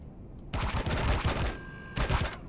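Gatling turrets in the space survival game Empyrion fire two loud, rapid bursts: a long rattling stream of shots followed by a shorter one after a brief pause.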